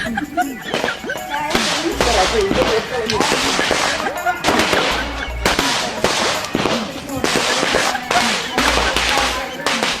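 Firecrackers burst in sharp, loud cracks and rapid crackling volleys near a Sivakasi fireworks shop during festival celebrations, the bangs arriving in repeated bursts across the whole stretch.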